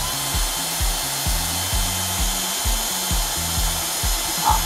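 A Bosch GSB 120 Li cordless drill runs at its second speed setting, giving a steady whine over a regular low, rhythmic pulsing, close and fairly loud.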